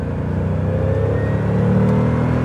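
An Aston Martin DBS V8 engine runs with a steady, full-bodied drone that swells slightly near the end, heard close and loud throughout with no talking.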